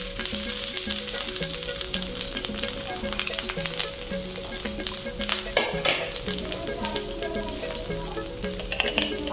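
Boiled rice is stirred through in a pan for sweet jorda polao, a close steady sizzle with repeated scraping strokes of a spoon against the pan and no voices.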